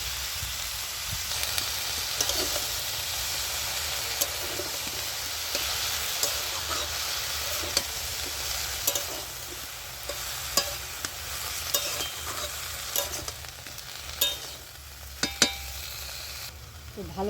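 Greens with potato and eggplant sizzle steadily in a pan while a spatula stirs them, producing a constant frying hiss with repeated scraping knocks, close up and with no talking.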